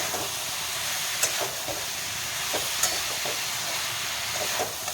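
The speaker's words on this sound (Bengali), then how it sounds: "এবার এগুলোকে ভালো করে মশলাটা কষিয়ে নেব এর মধ্যে আমি টমেটোটা দিয়ে দিলাম" Spices and tomato with a little water sizzle in a pan for Bengali rui fish chorchori with winter vegetables, a steady bright hiss with occasional faint pops and clinks.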